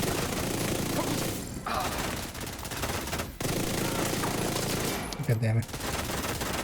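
A magazine emptied in a first-person shooter video game, rapid bursts of gunfire rattling on and off across the clip, loud and close, with brief gaps and a man swearing once over it.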